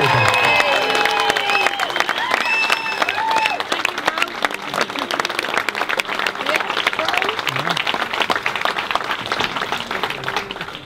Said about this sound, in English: Can everybody give a round of applause for the lady of the moment